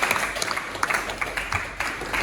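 An audience claps together during an education program. The applause is fairly loud and close, rising and falling in uneven bursts over about two seconds, with no speech above it.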